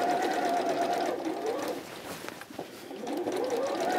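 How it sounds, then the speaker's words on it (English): A domestic sewing machine stitches a seam on a pinafore dress, its motor giving a steady whirring hum that slows and dips briefly in the middle before running at full speed again, close and clear with no talking. "The foot on my sewing machine will go over the teeth of the zip."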